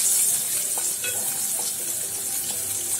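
Chopped onion fries in a pan with bay leaves for an egg curry, giving a steady close sizzle with occasional soft crackles and stirring scrapes, no talk over it.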